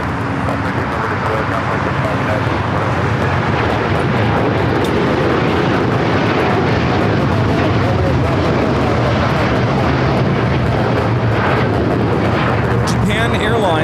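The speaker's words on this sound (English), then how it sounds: "Japan Airlines Flight 61 taking off to Tokyo, Narita on the 787-9 Dreamliner." Japan Airlines Boeing 787-9 Dreamliner taking off from runway 25 right at LAX, a loud sustained jet roar with low rumble filling the whole stretch.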